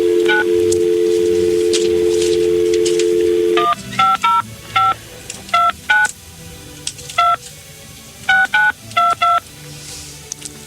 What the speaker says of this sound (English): now we're going to call a convenience store out there